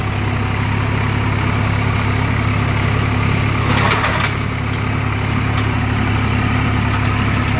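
A Swaraj 744 XT tractor engine drones loud and steady at close range while pulling a 9-tine cultivator at full depth in a field, with a brief rise in noise midway and no talking.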